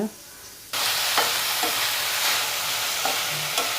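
Gongura leaves sautéing in a hot pan give a loud, steady sizzle that starts abruptly and runs on, with occasional louder stirring scrapes over the hiss.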